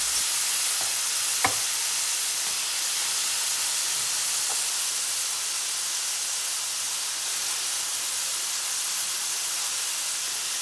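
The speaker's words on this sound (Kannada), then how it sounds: "ನಾನು ಇಲ್ಲಿ ಕ್ಯಾಪ್ಸಿಕಮ್ ಹಾಕ್ತಾಯಿದ್ದೀನಿ." Capsicum sizzles with onions in a hot pan, a steady, loud frying hiss with a few faint clicks of stirring and no voices.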